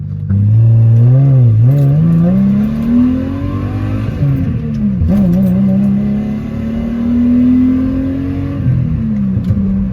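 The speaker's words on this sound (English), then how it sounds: "it sounds amazing when it's accelerating" A Subaru SVX engine revs and accelerates, its pitch climbing steadily and dropping briefly between gears, loud and close throughout.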